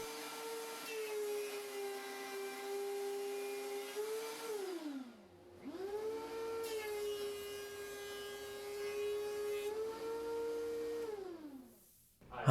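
A wood planer runs alongside a dust collector, giving a steady whining, droning roar with strong tonal hum; the motor spins down and back up twice, pitch sliding between bursts of running, fairly faint overall.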